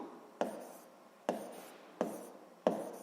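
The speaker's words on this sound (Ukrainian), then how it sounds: "записуємо тоді приклад" Writing out a physics example by hand: four short, crisp strokes at roughly even intervals, close and quiet, with no talk around them.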